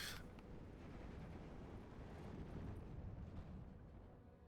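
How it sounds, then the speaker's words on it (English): Artillery fire in the strategy game Steel Division 2, a steady rumbling barrage of dense low booms rolling on without a break, fairly quiet and distant across the battlefield with no speech. "artillery fire starting back up again"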